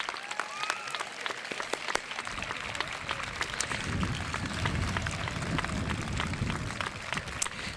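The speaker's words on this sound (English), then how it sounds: "Let's give them a round of applause." Middle school promotion audience applauding the students, sustained clapping from a large crowd swelling in the middle and continuing steadily to the end, with a few cheers.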